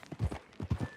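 Horse hooves clip-clopping in Red Dead Redemption 2, a quick run of soft, close, rhythmic thuds at a steady walking pace.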